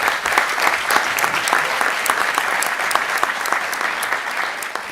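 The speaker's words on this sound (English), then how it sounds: "So a round of applause for everybody's contributions." Hands clap in steady, full applause for the speakers at a conference plenary session, a dense crowd sound sustained evenly for several seconds without talk.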